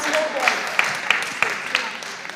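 At a junior high school quiz contest, the audience gives a short burst of applause. A few distinct claps stand out over murmuring voices.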